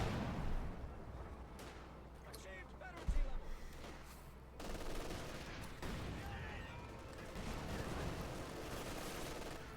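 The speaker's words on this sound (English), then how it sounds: "Machine gun there holding off the Americans" Machine gun fire from the Company of Heroes 2 battlefield rattles in bursts amid distant explosions and general combat noise, with a commentator talking over much of it.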